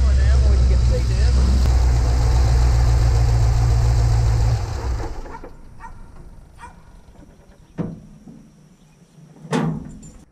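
The LS-swapped square body truck idles with a loud, low engine drone and whirring clutch fan. The engine then shuts off and the fan's whir fades away, with a couple of short sharp barks or knocks close by afterward.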